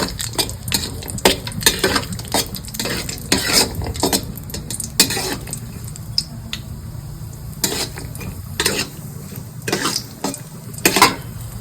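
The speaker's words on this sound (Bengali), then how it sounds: "ঘিতে দিয়ে দিব কাজু, দিয়ে একটু নাড়বো" Cashews frying in ghee in a pan for basanti pulao, a gentle sizzle under repeated sharp scrapes and clinks of a spoon against the pan in an uneven stirring rhythm.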